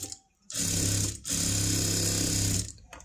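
A sewing machine double-stitching thin fabric for a princess-cut blouse, running in two steady whirring bursts separated by a brief pause, close and fairly loud with no speech.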